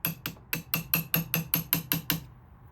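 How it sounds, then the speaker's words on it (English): A hammer strikes a punch to bend a lock washer tab on a Honda CRF110, eleven sharp metallic blows in an even, rapid rhythm, close and alone. "You gotta bend that out with a punch."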